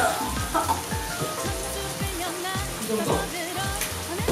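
Eggs and tomatoes stir-fried in a hot pan give a dense, continuous sizzle with repeated scraping strokes of the spatula, with brief talk in the middle.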